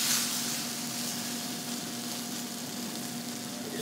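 A steak sizzles steadily in a hot frying pan, a continuous close hiss with a faint background hum and no talk.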